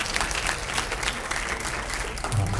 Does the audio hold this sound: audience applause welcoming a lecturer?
yes